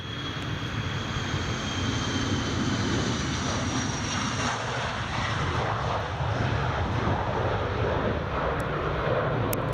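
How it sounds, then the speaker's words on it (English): Airbus A400 military transport aircraft at Edinburgh Airport, its engines producing a steady broadband roar that holds at moderate distance with wind buffeting the microphone. "everybody else has disappeared after the A340, and now we get an A400"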